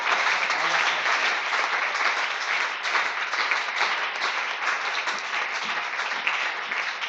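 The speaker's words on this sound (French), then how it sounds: "Say it while clapping the Lord." A church congregation applauds continuously for several seconds, a dense, even wash of many hands clapping at moderate distance with no break.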